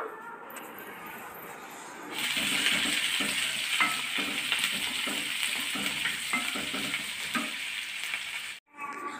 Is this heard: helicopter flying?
no